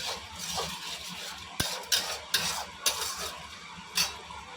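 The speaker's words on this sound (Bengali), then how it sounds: "পেঁয়াজগুলো একটু ভাজা ভাজা হবে।" Chopped onions fry in oil in a wok under a soft sizzle, while a metal spatula scrapes and knocks against the pan in about six regular strokes.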